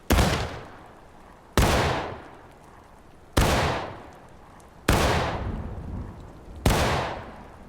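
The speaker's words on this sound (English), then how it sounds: "Firing by file from the right in 2-second intervals." Musket volley fire by file in the War of Rights game: five loud, separate gunshots about every one and a half seconds, each a sharp crack with a decaying rolling tail, no talking.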